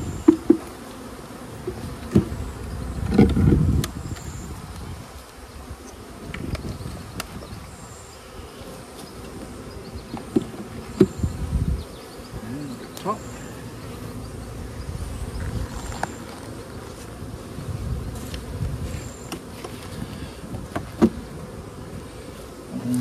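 Honey bees buzzing steadily around outdoor beehives, a constant droning hum with individual bees flying close past now and then, no talk.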